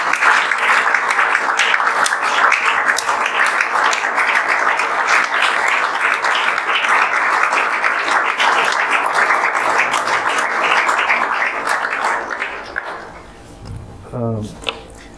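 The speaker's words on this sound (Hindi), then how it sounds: "सर लोगों के लिए एक बार जोरदार ताली बजा दीजिए" A coaching-institute audience claps loudly and continuously at a JEE Main 2024 results event, a dense steady applause that fades out near the end as a voice begins to speak.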